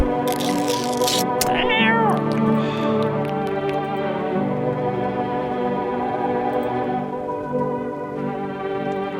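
A cat meows in a horror video game, a single rising-and-falling meow heard clearly against a steady, droning ambient game score that continues throughout.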